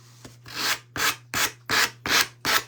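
A hand sanding pad is rubbed over a surface in six steady back-and-forth strokes, each a close, dry, raspy scrape separated by short pauses, with a low steady hum underneath.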